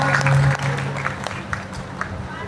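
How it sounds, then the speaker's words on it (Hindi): An audience at a religious gathering in Shegaon applauds, steady clapping that begins under a brief voice and tonal hum, then continues with a few sharper claps standing out. "और एक बार गजानन परिवार सेवा समिति के लिए जोरदार ताली बजाइए"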